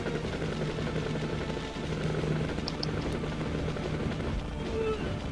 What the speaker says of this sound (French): Non, mais les mecs, en même temps, ils t'envoient des hélicos